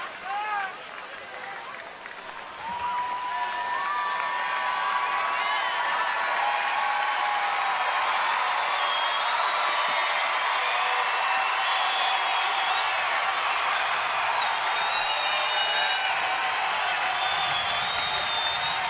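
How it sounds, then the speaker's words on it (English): Baseball stadium crowd cheering and applauding during a Royals at Orioles game, a broad steady roar that swells after a couple of seconds and holds loud throughout, with a public-address style voice faintly audible early on. "Crowd coming to life."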